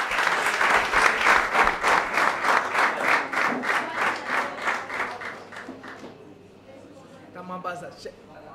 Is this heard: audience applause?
yes